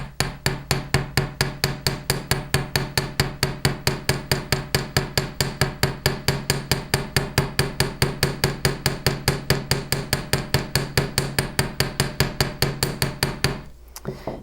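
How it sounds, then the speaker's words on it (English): Metal wire spirals pounded steadily with the domed face of a chasing hammer, a rapid, even stream of sharp ringing strikes close up, running continuously before stopping abruptly near the end; no talking. "I'm going to use the dome side of the chasing hammer and spread the metal all the way around."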